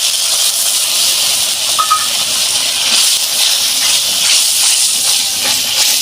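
Ground mustard, poppy seed and cumin paste hisses loudly in a hot pan, a dense continuous sizzle that holds steady throughout, close up with no talking.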